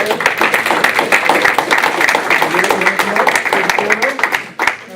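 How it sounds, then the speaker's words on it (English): Audience applause at a school district board meeting, steady dense clapping from a room full of people lasting the whole stretch, with murmured voices and a brief dip near the end. "So please, another big round of applause for Josiah Torres."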